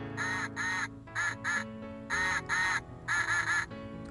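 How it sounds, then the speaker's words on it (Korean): A duck quacks in quick pairs, four rounds of double quacks with short pauses between, loud and close. "오리는 꽥꽥"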